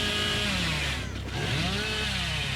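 A chainsaw in the horror game Dead by Daylight revs continuously, loud and close, its buzzing pitch rising and dipping briefly midway, with no talking over it.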